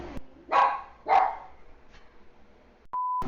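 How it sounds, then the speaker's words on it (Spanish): A small dog barks nearby, two sharp yaps in quick succession followed by a fainter third, over a quiet background, ending with a steady electronic tone. "Estoy esperando que el perrito termine de ladrar."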